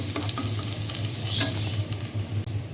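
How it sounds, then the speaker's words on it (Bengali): Whole cumin seeds sizzle and crackle in hot oil in a pan, a dense, steady frying hiss with scattered pops and faint stirring, close and without talk. "আর এই যে আস্ত জিরে আস্ত জিরা দিয়ে দিলাম"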